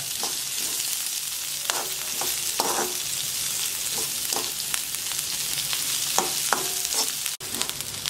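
Finely chopped onion sautés in oil in a pan for upma, a constant close sizzle broken by repeated spoon-stirring scrapes, with a brief cut in the sound near the end and no speech.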